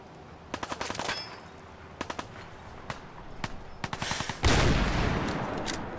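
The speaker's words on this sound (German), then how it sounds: "Guter Schuss, Longfellow" Fallout 4 gunfire comes in sharp bursts of rapid shots, separated by short pauses, followed near the end by a louder, sustained roaring blast with a noisy tail.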